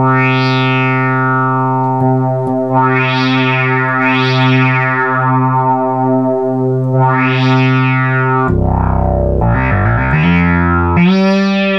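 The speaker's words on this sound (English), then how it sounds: "So when we actually bend this wheel, you'll hear what the dead zone mod does" A Minimoog synthesizer holds a loud, buzzy sustained tone with a dead zone mod on its pitch wheel, then the pitch is bent up and down in sweeping glides that get faster and wider toward the end, heard alone.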